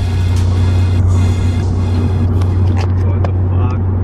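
A car drives along a road through smoke from a forest fire near Killarney, with a steady low engine and road rumble throughout and scattered clicks and knocks inside the vehicle.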